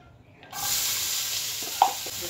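Chopped onion hits hot olive oil in a pan for sururu, starting a sudden steady sizzle that keeps going, with a brief clatter of a utensil partway through, close and fairly loud, no talking.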